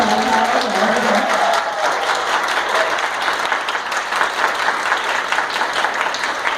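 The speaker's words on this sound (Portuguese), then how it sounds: "Uma salva de palmas calorosa, maravilhosa." Sustained, loud audience applause fills the room at the close of a university debate, a dense steady wash of clapping without pause.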